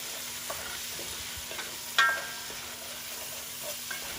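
Onions caramelizing in a cast iron pan for onion soup, stirred now and then, a soft steady sizzle with faint scraping touches and one brighter clink near the middle.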